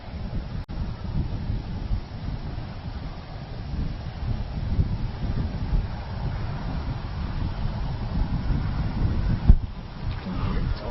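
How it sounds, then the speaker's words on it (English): Steady low roaring buffet of strong headwind across an outdoor disc golf course, continuous and loud for the whole stretch with a brief thump near the end and no talking. "he's throwing a putter directly into a headwind, a blistering headwind"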